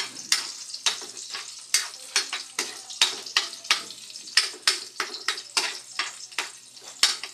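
Garlic and onion sautéing in a pan for adobo: a soft frying sizzle broken by a rapid series of sharp scraping and clinking strokes of a utensil stirring against the pan, close and fairly regular.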